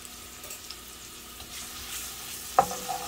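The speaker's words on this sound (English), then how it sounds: "we're gonna go ahead and add our onions. Let the onions get started." Onions frying in a pan for arroz con pollo, giving a low, steady sizzle with light scraping as they are stirred, then a sharper clatter near the end, close and alone.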